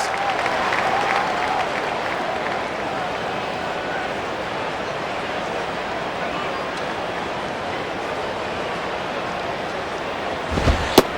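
A baseball stadium crowd in the video game MLB 09 The Show gives off a continuous low murmur and wash of noise through the middle innings, with a brief sharper burst near the end.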